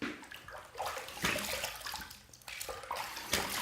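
Running water splashes and gurgles steadily while a razor is rinsed under it during a wet shave, close and continuous, with bursts of louder splashing.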